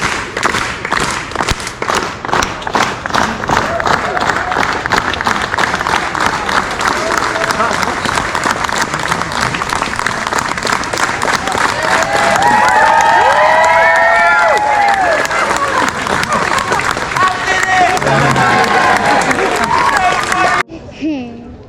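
A large crowd in York city centre claps in unison and cheers, loud and sustained for about twenty seconds, with shouting voices rising through the dense rhythmic clapping before it cuts off abruptly.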